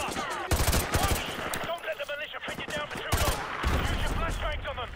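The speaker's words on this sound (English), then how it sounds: "Shooting" Rapid gunfire bursts in Call of Duty Modern Warfare 2 Remastered, close and loud, mixed with game voices and chatter throughout.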